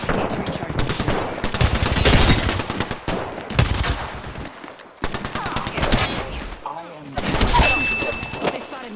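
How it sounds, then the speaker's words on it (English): Rapid bursts of video game gunfire crackle steadily through a busy shooter match, with close, loud shots repeating under a player talking over the action. "They spotted me. I'm taking shots."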